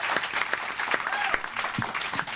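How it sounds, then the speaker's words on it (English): An audience claps for headliners Peter White and Jeffrey Osborne aboard a cruise voyage, dense and continuous applause close by, with a voice faintly mixed in. "we have to give a big round of applause to the two headliners from last night on White Night"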